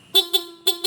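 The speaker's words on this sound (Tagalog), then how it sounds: "Yan, stock horn." Four short, loud honks from a Honda PCX 160 scooter's stock horn in two quick pairs, close and clear.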